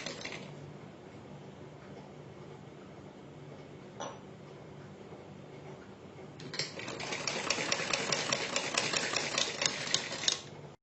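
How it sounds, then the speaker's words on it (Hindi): A sewing machine stitches cloth for a new-style cut garment. It runs quietly at first, then steadily and loudly for the last few seconds as a dense, fast mechanical rattle, with no talking. "इस तरह से हर निशान के ऊपर इस तरह से हम इनको रखते हुए इस तरह से सिलाई लगाते चले जाएंगे।"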